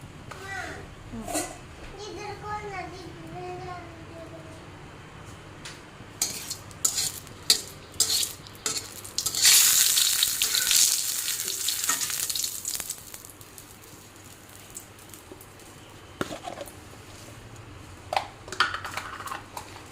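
Bay leaves and dried red chillies dropped into hot oil for a lentil dish, bursting into a loud crackling sizzle that then settles, with stirring clinks and a nearby voice talking before and after.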